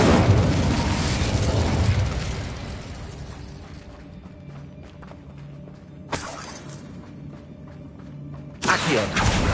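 The Incendio fire spell bursts in Hogwarts Legacy as a loud crackling, shattering blast that slowly fades, followed by two sharper bursts over a low background hum.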